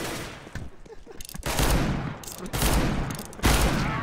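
Gunfire in a first-person shooter match, with loud bursts of rapid automatic shots and sharp single cracks layered over constant game noise, close and dense for the whole stretch.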